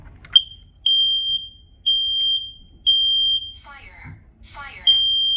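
Kidde KN-COPE-D smoke alarm sounding during a test, sharp piercing beeps in a repeating pattern of three, close and loud, with a brief synthetic voice announcement breaking in near the end.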